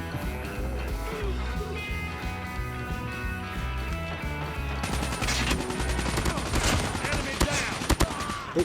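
Rapid automatic gunfire in the mobile shooter Call of Duty Mobile: tonal game music plays at first, then dense bursts of shots break out and continue loudly to the end.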